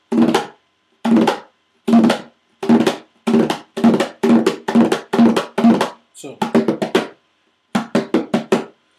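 Conga strokes played with thumb and fingers using tabla technique, in short resonant bursts, a steady series of hits with brief pauses, close and clear.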